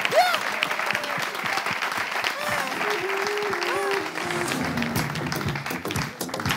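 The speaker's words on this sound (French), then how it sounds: "Ah, vous commencez à applaudir." A studio audience applauds the winner of the Animateur 3.0 contest with steady, dense clapping that lasts throughout, while voices call out and talk over it.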